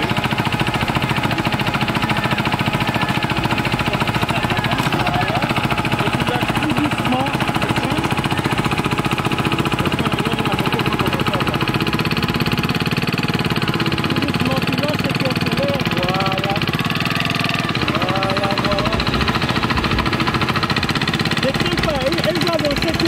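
A Piaggio MP3 scooter's engine idles at a steady, continuous mid-pitched hum, loud and close, lasting throughout while people talk faintly nearby.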